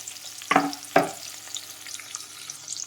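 Green chillies frying in a pan for a pumpkin dappalam, two sharp sizzling bursts from dropping in and stirring, then a low steady crackle with no voices.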